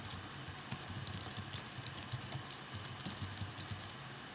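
Steady computer-keyboard typing while code is entered, a brisk, irregular patter of close keystrokes running continuously with no talk.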